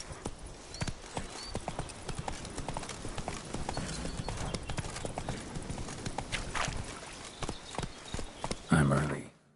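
Roach, the horse in The Witcher, gallops with a quick, continuous clip-clop of hooves over a busy ambient bed, with voices present and a brief louder burst near the end.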